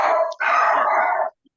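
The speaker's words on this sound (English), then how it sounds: "I'm sorry about my dogs." Dogs barking in two loud, close bursts, a short bark followed by a longer drawn-out one, then quiet, with no talking.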